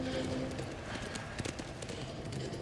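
Steady clip-clop of horse hooves at a walking pace in the video game Ghost of Tsushima, fairly close, over a constant background hum with faint chatter.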